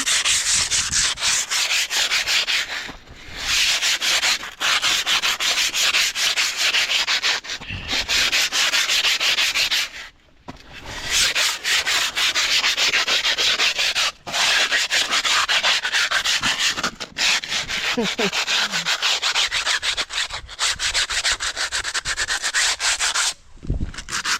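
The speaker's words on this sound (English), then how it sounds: "So then scrubbing." Steady, harsh abrasive scrubbing of a surface while preparing a cabin for painting, continuous back-and-forth rasping with a few brief pauses, loud and close throughout with no talk.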